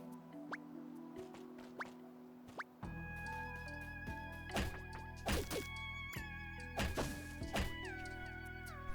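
In the video game Born of Bread, a character hits a skinny tree, producing a series of soft, wet thunks and plops spaced irregularly over a sustained tonal game soundtrack.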